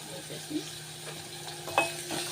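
Onions with salt and turmeric are stirred in a pan, a soft low sizzle with a few light scrapes and taps of the spoon, fairly quiet and close.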